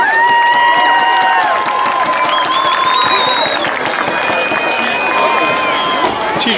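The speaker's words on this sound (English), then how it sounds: "let's make some noise and cheer on our sensations" A crowd cheers and shouts at a high school football game's halftime dance show, dense and loud, while music with sustained sung tones plays over the noise throughout.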